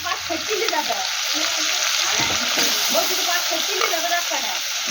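Potatoes fry in hot oil in a pan, a loud continuous close-up sizzle and crackle filling the whole stretch, steady without pauses.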